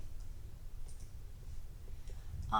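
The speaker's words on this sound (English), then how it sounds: "you click on OK" A single sharp mouse click on an OK button, short and close, following a near-silent stretch of faint room hiss.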